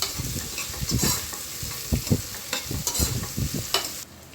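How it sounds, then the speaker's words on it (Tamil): Vegetables for a vegetable biryani sizzle and crackle in a hot pan while a utensil stirs and scrapes them in repeated strokes, loud and close. "இந்த மாதிரி வதக்கிடுங்க."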